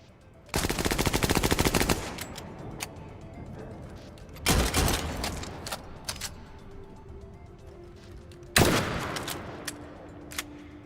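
Video game gunfire erupts in three loud automatic bursts, the first lasting over a second and the later two shorter, separated by quieter stretches of faint clicks and mechanical reload handling.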